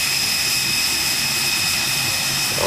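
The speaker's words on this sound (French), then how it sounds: "On entend le fondissement du moteur qui nous donne allègrement" An L-39 Albatros jet engine runs at an aerodrome before departure with a loud, steady roar and a high whine throughout, with no voices.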